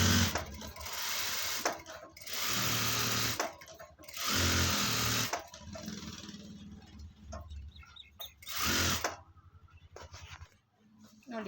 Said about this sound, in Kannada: ಈ ಥರ ಒಂದು ಸ್ಟಿಚ್ ಹಾಕ್ತೀನಿ ಈಗ.